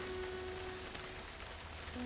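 Rain falls in a soft, steady patter with a constant faint hiss and no voices.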